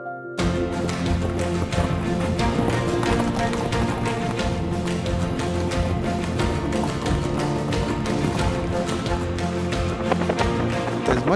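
Horse hooves clip-clop in a quick, steady rhythm during a morning safari ride at Dundlod in Shekhawati, blended into a dense, loud bed of sound that runs unbroken throughout.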